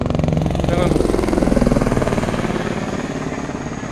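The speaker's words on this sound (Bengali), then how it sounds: "আমাদের পুরো মাথার উপর দিয়ে হেলিকপ্টার যাবে" A helicopter passes low overhead on the Amarnath pilgrimage route, its rapid rotor thudding loud and close, swelling and then slowly fading.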